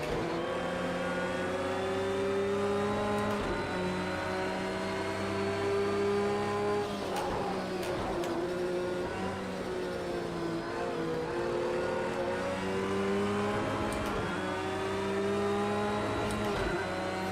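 A race car engine in a VR racing sim drones steadily with shifting harmonic pitch, rising and dipping through gear changes and corners, loud and continuous with no talking.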